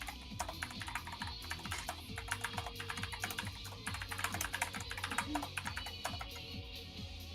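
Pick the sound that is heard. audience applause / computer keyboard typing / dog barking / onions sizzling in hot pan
computer keyboard typing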